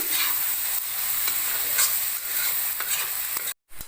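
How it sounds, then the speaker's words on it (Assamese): Cinnamon, green and black cardamom and cloves fry in hot oil for butter chicken, a close, bright continuous sizzle with faint stirring taps that cuts out abruptly near the end. "এতিয়া এইখিনি মই ৰঙচুৱা পৰালে ভাজি থাকিম"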